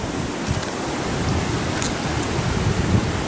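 Strong wind buffets the microphone on an exhausting outdoor trail, a constant broadband roar with gusty surges and no voices.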